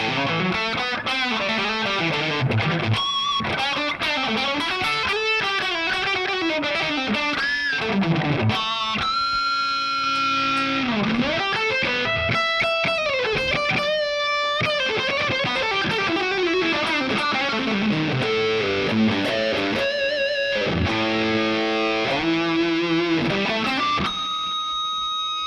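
A Fender Player Series Stratocaster HSS electric guitar plays through distortion, with sustained riffs, bends and ringing harmonics that continue without pause at a steady level and end on a held note.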